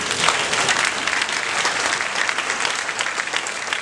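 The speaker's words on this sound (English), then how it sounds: "That's a place to clap your hands." Audience applause fills a political speech about fuel price policy: a steady, dense wash of clapping from a large crowd that holds at an even level throughout, with no voices over it.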